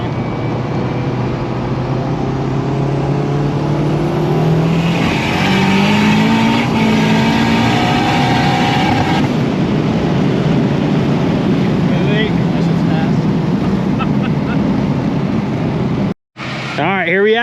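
A turbocharged stock Honda K24 car making 550 wheel horsepower, with 200,000 miles on it, gives a loud, steady engine roar mixed with wind rush that runs continuously and cuts out abruptly near the end.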